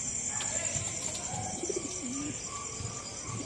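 Racing pigeons coo at a loft during a summer race arrival, soft low coos rising briefly in the middle, over steady background noise with faint chirps and no speech.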